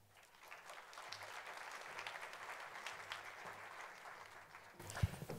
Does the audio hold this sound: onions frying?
no